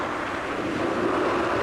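Cartoon storm waves surge in a dense, continuous roar of crashing water and wind, loud and steady throughout with no voices.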